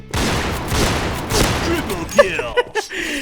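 Rapid bursts of gunfire in the battle royale game PUBG, loud and close, with sharper individual shots and ringing tails toward the end, partly under someone talking.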